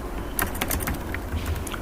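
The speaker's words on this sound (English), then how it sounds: "You come over here and start typing something." Quick, light keystrokes rattle across a computer keyboard in a short burst of irregular typing, close and fairly quiet over a faint room hum.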